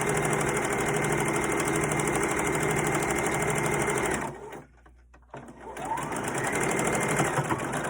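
A sewing machine stitches the top edge of a fabric face mask in a loud, steady, close run. It pauses briefly near the middle, then starts again at the same even pace.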